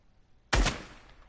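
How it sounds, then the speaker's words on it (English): A single loud gunshot cracks sharply after a short silence, then decays in a lingering echo with no other sounds. "I'm gonna shoot each one"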